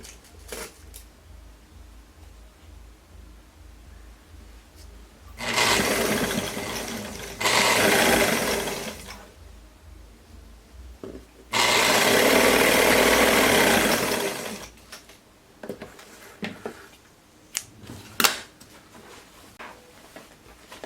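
A sewing machine stitches the side seam of a jumpsuit in two sustained bursts of rapid whirring, separated by a short pause, with quieter handling noises before and after.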